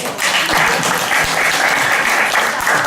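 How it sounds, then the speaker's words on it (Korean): A church congregation applauds during a Korean sermon, a loud, dense burst of many hands clapping together, steady and close, with no talk over it. "박수 한번 쳐야 될 것 같습니다"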